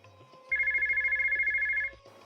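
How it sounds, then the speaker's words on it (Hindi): A telephone rings in one continuous burst of about a second and a half, a rapid warbling electronic trill that stands clearly above a quiet room, with no one speaking over it. "अब पता नहीं किसका टेलीफोन आ गया।"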